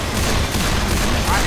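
Continuous, loud gunfire in the zombie shooter Left 4 Dead 2, a dense unbroken rattle of shots filling the whole moment with no clear gaps.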